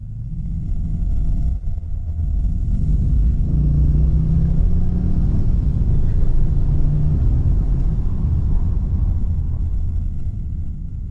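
A Bentley Brooklands Coupé in sport mode accelerates as its engine pulls up through the gears, a loud, steady low rumble heard from inside the cabin with no talking.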